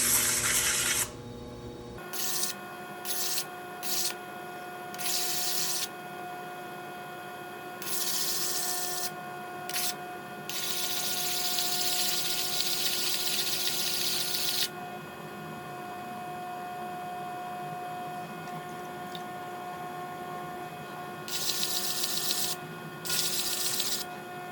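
A diamond disc grinding glaze off porcelain ceramic, bursts of harsh high-pitched abrasive whirring that start and stop repeatedly over a steady motor hum, close and fairly loud, with no talk.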